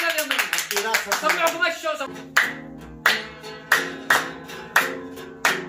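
At a Yemeni wedding song session, a group claps in a steady, evenly spaced rhythm, sharp distinct claps following a stretch of busier sound, with someone speaking over the start.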